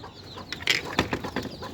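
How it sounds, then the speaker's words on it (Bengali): Chickens and young chicks, a few soft clucks and brief chirps along with a quick rustle like wings shifting, faint and nearby, with no talking. "এই হচ্ছে ছয়টা মুরগির বাচ্চা এর পাশাপাশি আমাদের কাছে কিছু সোনালি মুরগি আছে"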